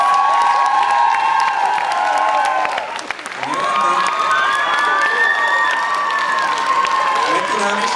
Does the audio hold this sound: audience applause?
yes